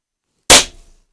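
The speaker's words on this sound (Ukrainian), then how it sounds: "П'ятий постріл." A single sharp gunshot from a 4mm Flobert Kurz pistol, close and loud, fading quickly, followed by a faint metallic click.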